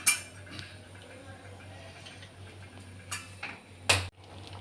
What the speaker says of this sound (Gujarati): આને હલાવતું થોડીક વાર રહેવાનું, જેથી કરીને નીચે ચોંટી ના જાય